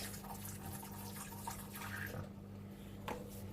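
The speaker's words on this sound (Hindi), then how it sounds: "इसमें डालेंगे हम लेमन जूस" Lemon juice is poured into a marinade for peri peri grilled chicken, making a soft, steady liquid trickle over a constant low hum. No speech is heard.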